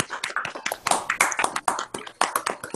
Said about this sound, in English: Can y'all just say thank you or even do a boss clap?